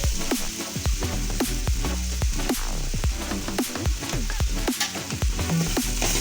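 Chopped onion fries in a pan with salt and turmeric while making Mumbai-style vada pav filling, giving a steady, close sizzle broken by frequent sharp scrapes and knocks of stirring.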